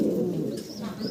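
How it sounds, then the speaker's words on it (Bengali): A pair of large Mundian pigeons coo softly and low, a short, fairly faint burst of throaty cooing close by. "অনেক বড় সড়ো বিশাল সাইজের ভিতরে একটা জোড়া দেখতেছেন, মুন্ডিয়ান কবুতর।"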